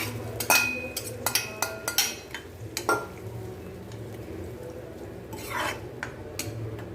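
Boiled mashed potatoes and peas go into a pan of mint masala with a spoon, giving close metallic clinks and scraping stirs. The strikes are irregular, then a softer scraping swell follows.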